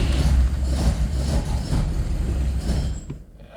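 A cold classic car engine strains to fire, a loud, rough low rumble churning steadily before cutting off abruptly near the end.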